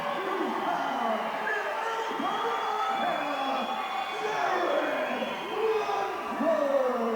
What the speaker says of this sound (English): the crowd's into this one